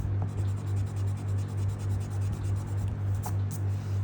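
A pen or marker writing letters on a board, rhythmic scratchy strokes in short repeated bursts over a steady low electrical hum, close and moderately loud.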